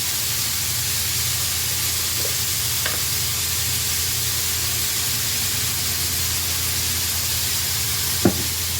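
Chopped garlic frying with onion in a pan, cooking for cowboy baked beans, gives a steady close sizzle with occasional stirring scrapes and a light knock near the end.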